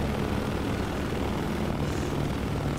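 Steady, loud airplane engine drone heard from inside the cabin, a continuous broadband roar with low hum that holds evenly throughout, no voices.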